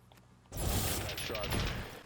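Gunfire from the video game Arma Reforger, a dense burst of rapid distant shots starting abruptly after a quiet moment and continuing as a rattling fusillade.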